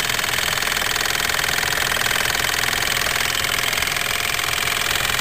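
A small Mamod SE2a model steam engine driving a generator, running with a steady, fast mechanical chatter and whir that holds even and loud, close up, with no talking.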